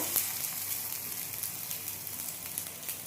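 Pumpkin leaf fritters frying in hot oil, a steady dense sizzle and crackle with small popping bursts, close and continuous throughout without any talking.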